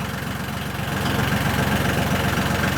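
A 1949 Chevy Coupe barn find, unmoved for 40 years, runs with a steady low rumbling engine throbbing close by, growing slightly louder as the car starts rolling forward.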